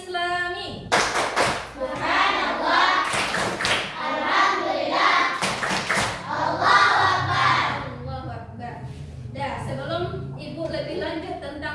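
Classroom of children doing a rhythmic clapping cheer (tepuk semangat) led by a teacher, bursts of patterned claps mixed with loud chanting voices in unison.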